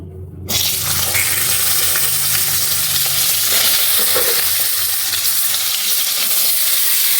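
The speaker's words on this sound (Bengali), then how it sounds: "কড়াইতে দিয়ে দিলাম তেল এবারে দেব পটলটা ঢেলেই দিয়ে দিই" Sliced pointed gourd, still wet, is tipped into hot oil in a wok and bursts into a loud, continuous sizzle that starts sharply and holds steady to the end, with faint spatter and stirring underneath.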